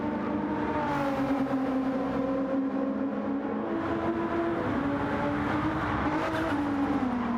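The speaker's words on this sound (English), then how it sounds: "Great sounding car, that GTR." A Nissan GT-R race car in a racing video game at Laguna Seca drones with a steady, high-revving engine note that rises and shifts slightly, loud and continuous.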